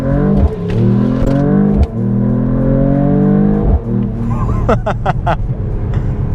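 A 2026 Mercedes-AMG E53 hybrid wagon's straight-six engine pulls hard through several rising gear sweeps, loud and rumbly from inside the cabin, with brief shift breaks and a voice exclaiming over it.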